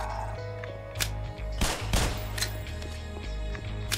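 Scattered gunshots from the Black Mesa video game, single sharp reports spaced irregularly over a steady low game hum, with a tight cluster of shots in the middle.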